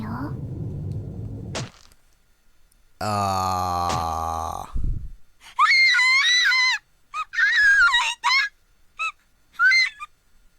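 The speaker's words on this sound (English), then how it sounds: "That's certainly a high-pitched scream." Piercing high-pitched scream from a girl in the horror game Corpse Party Book of Shadows, coming in repeated sharp bursts after a held tone and a low rumble, loud and clear with no talking over it.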